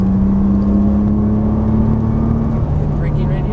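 Engine of a 2013 Nissan GT-R accelerating out of a corner on track, a loud steady drone with a strong low tone holding nearly level before dropping as the car pulls away, with a person talking over it.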